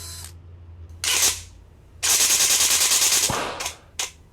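Airsoft replica gearbox, freshly rewired with a MOSFET, running in short loud bursts of whirring motor and gear noise, then a longer buzzing run that ends in a sharp crack as its axles break, followed by two brief stuttering bursts.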